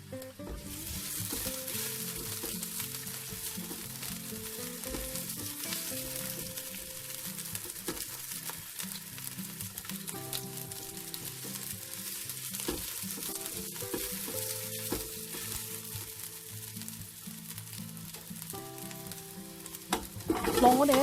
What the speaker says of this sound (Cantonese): 我哋爆一爆啲薑片